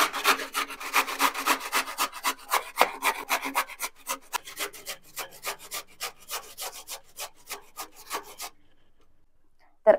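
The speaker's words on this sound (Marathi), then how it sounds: "तर आता आपण बीट खिसून घेऊयात।" Peeled beetroot being grated by hand, a steady run of quick, rhythmic rasping strokes up close that stops abruptly near the end, with no talk.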